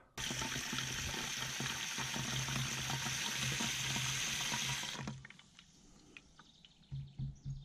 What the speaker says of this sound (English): I'm getting a little bit of water in there